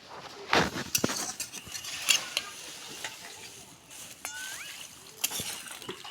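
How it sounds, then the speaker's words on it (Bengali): Pumpkin and hilsa curry being stirred with water in a pot: soft sizzling under scattered scrapes and clinks of a spoon against metal, close and fairly quiet, with a few louder knocks. "এবার আবার পানি দিয়ে কষে নেওয়া হবে"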